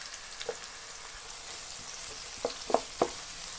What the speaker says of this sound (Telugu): ఆనియన్స్ అవన్నీ దోరగా వేగాల